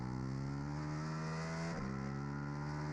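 A Suzuki SV650 pulls hard on a race track at Carolina Motorsports Park, its steady, loud engine drone holding a strong pitch with a brief dip and recovery midway as the bike accelerates through a turn.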